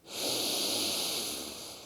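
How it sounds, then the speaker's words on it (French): A single deep, noisy breath drawn in through the nose during a sophrology relaxation exercise, loud and close, swelling quickly and then sustained as a steady airy rush with no talk over it. "Nous inspirons par le nez"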